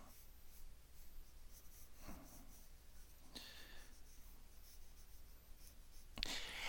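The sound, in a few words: pencil drawing hard on paper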